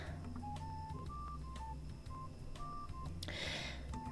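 A run of telephone keypad tones beeps at an uneven pace as a number is dialed, each beep short and distinct, over a steady background tune, ending in a brief burst of noise.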